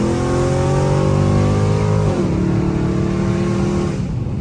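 A Dodge 392 V8 engine with a burble exhaust tune revs up and holds with a deep burbling exhaust rumble, then the pitch drops and eases off, loud and close.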